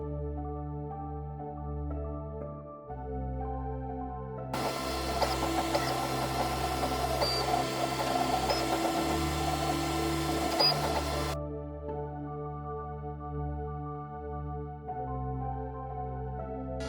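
A 3D printer prints halves of a dragon lithophane sphere on a smooth build plate, stepper motors whirring in a rhythmic tonal pattern, with a busier, noisier stretch of movement in the middle.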